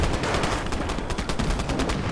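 Rapid, dense bursts of tank gunfire in a WWII video game, with steady repeated shots forming a continuous loud clatter throughout, no voices.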